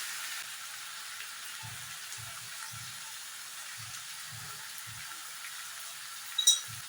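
Onion, tomato, turmeric and chilli powder frying in a pan for a crab fry, a soft, steady sizzle that stays faint throughout, with a few dull low knocks scattered through it.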